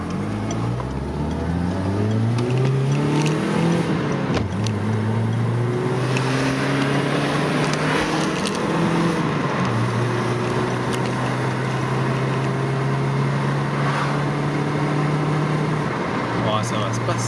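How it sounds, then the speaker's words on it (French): A warmed-up car engine revs up through the gears on the road, its pitch climbing in several steady rising sweeps before settling into a sustained drone, loud and close with faint talk underneath. "Après quelques kilomètres supplémentaires, la voiture est chaude et on a droit à un petit regain de vivacité"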